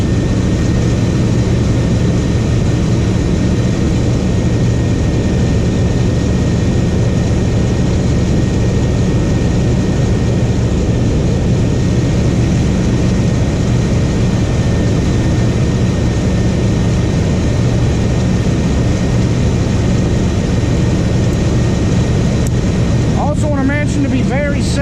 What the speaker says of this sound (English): because the engine is running, so radiator fan's going, the belt's moving